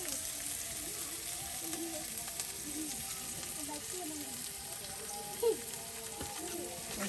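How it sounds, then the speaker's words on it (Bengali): Garlic and green chilies fry together in a pan, giving a steady, quiet sizzle that runs throughout with a brief louder stir-like burst near the end. "রসুন, কাঁচামরিচ হ্যাঁ, এগুলা সবকিছু একসাথে দিয়ে দেওয়া হবো। একসাথে ভেজে নেব।"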